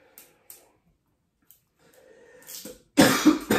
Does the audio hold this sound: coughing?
yes